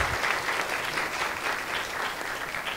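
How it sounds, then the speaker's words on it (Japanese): Sustained audience applause at a forum on rare materials and digital archives, many people clapping together in a continuous, even patter that fills the room with no voices on top. "今一度盛大なる拍手をお願いいたします"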